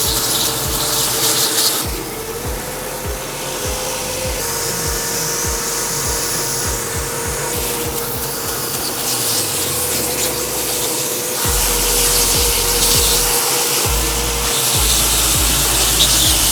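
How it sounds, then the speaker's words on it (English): Power sander running steadily over glued-up wooden blocks, flattening the surface and removing dried glue squeeze-out; a loud continuous whirring grind with rubbing surges as the blocks are pushed across it, no talk. "We're gonna take it over to the sander and we're gonna sand it all as flat as we can"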